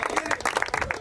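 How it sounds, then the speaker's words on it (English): A crowd applauds after the judges' decision at a fight, a brief burst of many hands clapping at once, fairly close and dense. "I want everybody to give a round of applause for both fighters"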